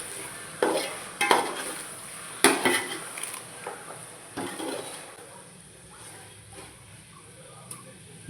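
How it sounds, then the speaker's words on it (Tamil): Chicken frying in oil for biryani while being stirred: scattered scraping and clinking of a utensil against the pot in irregular bursts, fading to a soft sizzle toward the end. "ஒரு 2-3 நிமிஷம் இதை இப்படி ஆயிலே ஃப்ரை பண்ணி விடுவோம்"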